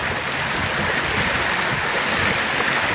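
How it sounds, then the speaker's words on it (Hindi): The flooded Indus River rushes through Kotri Barrage in Sindh, a steady, loud, broadband roar of churning water with no voices. "कोटरी बैराज के मकाम पर भी दरियाए सिंध बिफर रहा है"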